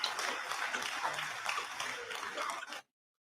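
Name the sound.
hand clapping in the background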